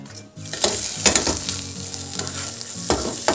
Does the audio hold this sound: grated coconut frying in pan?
yes